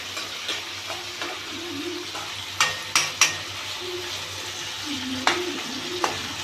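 Chicken liver curry bubbling and frying in a pan, a steady low sizzle broken by a few sharp spoon-on-metal clinks and stirring scrapes, close up.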